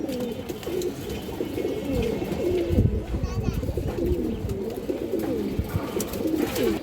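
Gorra pigeons coo in a steady stream of soft, rolling low calls close by, with someone talking over them.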